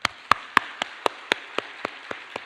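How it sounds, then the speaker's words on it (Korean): Scattered applause from a church congregation during a Wednesday service, about ten separate sharp claps spread evenly over a couple of seconds, thin and sparse rather than a full ovation. "우리 이 시간에는 잠시 하나님께 영광의 박수를 드리도록 하겠습니다"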